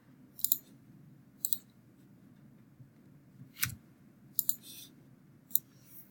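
Sharp computer mouse clicks during 3D bone rigging work, five short isolated clicks spaced irregularly, some doubled, over a low steady hum, close and fairly quiet.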